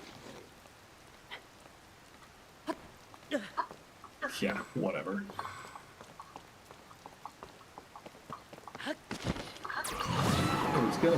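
Rain falling in the game world of Zelda: Tears of the Kingdom, Switch 2 Edition, a steady patter that swells into a loud, dense downpour near the end, with someone talking over it in short remarks.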